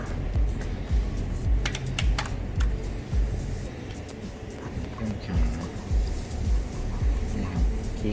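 Keys clatter on the full-size keyboard of an HP 15-da0026TX laptop in a series of quick, uneven taps, close and moderately loud, with short pauses between bursts.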